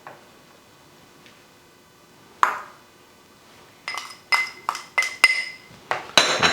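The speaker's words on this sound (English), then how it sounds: "Now we're mixing all this together to a nice nearly paste, right?" Anzac biscuit dough being mixed, with a spoon clinking against the bowl as a melted butter mixture is worked into dry ingredients: one sharp clink, then a quick run of bright, close clinks and scrapes near the end, with no talking.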